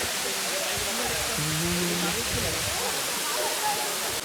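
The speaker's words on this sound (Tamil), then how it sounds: "இதுதான் வந்து வாட்டர் ஃபால்ஸ் தான்." Steady rushing water from a small waterfall trickling from rocks fills the scene, with a voice talking faintly underneath.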